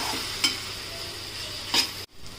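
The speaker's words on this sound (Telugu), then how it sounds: "ఇది పచ్చి వాసన వెళ్ళేంత వరకు కాసేపు ఇందులో ఫ్రై చేద్దాం" Tomato puree frying in a pan for egg lababdar, giving a soft steady sizzle broken by two quick scraping stirs of a spoon, then a sudden brief cut in the sound near the end.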